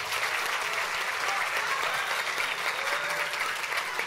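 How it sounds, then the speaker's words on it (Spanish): An audience at a cybersecurity talk claps steadily in sustained applause, a dense even wash of many hands with no voices standing out. "Aplauso."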